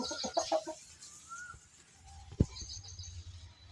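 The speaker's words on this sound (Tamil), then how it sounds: "ஆனால் பார்த்தீங்கன்னா இது சேவல்" A rooster on a small farm with cattle, goats and coconut trees gives short clucking calls early on, followed by a sharp knock and low background rumble; no one speaks.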